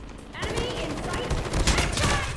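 Heavy gunfire in the mobile game Call of Duty Mobile, rapid crackling shots blending into a continuous loud burst that keeps going across the moment, with a voice talking over it.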